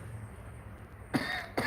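Someone speaking in a sermon setting coughs twice in quick succession, sharp and close, after a stretch of quiet room hum.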